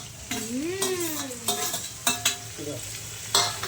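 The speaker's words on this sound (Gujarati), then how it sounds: "રાઈ જીરાનો વઘાર કરી અંદર ભીંડા નાખી દીધા છે." Okra tossed into a hot pan over a mustard seed and cumin tempering, sizzling and frying with stirring scrapes and a few clinks of utensils, close and clear with no talk.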